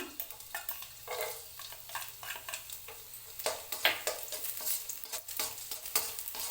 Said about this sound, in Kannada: ಈ ಥರ ಬೆಳ್ಳುಳ್ಳಿನ ಬ್ರೌನ್ ಕಲರ್ ಬರೋ ಹಾಗೆ ಫ್ರೈ ಮಾಡ್ಕೊಳ್ಳಿ.